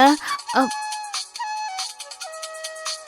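A phone's musical ringtone plays up close and loud for an incoming call in a Tamil TV drama household, its melodic tones continuous across the whole moment.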